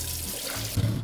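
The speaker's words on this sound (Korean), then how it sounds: "30분이 지났으면 차가운 물에 한번 헹궈주세요" Cold tap water running into a sink while salted cucumbers are rinsed, a steady splashing flow with a brief sloshing burst near the end.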